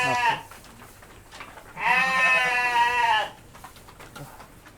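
A plump sheep on a breeding and dispersal farm gives one clear, wavering bleat of about a second and a half, close by, with faint background voices around it.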